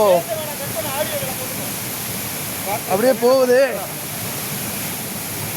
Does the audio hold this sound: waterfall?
yes